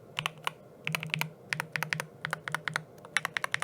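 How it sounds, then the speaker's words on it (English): Typing on a stock, unmodded Sikakeyb HM80 mechanical keyboard with Jade Pro switches, a quick, irregular run of close, deep, creamy thock-like keystrokes with no talking. "I'll give you a quick sound test here for you with the Jade switches."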